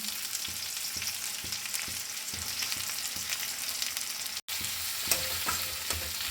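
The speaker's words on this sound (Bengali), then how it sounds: "তেল গরম হয়ে গেছে, পেঁয়াজ কুচিগুলো দিয়ে দিলাম।" Finely sliced onions fry in hot oil for a crab dish, a steady close sizzle with occasional stirring knocks and scrapes.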